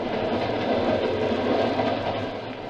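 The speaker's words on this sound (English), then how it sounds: "We're running at 60 miles an hour on open track in the dead of night." Train running fast on open track at night in a radio drama, a steady rolling rumble with rhythmic clickety-clack of wheels, fairly close and alone, easing off slightly at the end.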